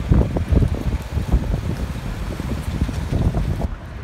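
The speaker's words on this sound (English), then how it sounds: "it's too much windy, so maybe you won't hear me clearly" Heavy wind in Cape Town buffets the microphone in loud, gusty low rumbles that rise and fall continuously; no one speaks.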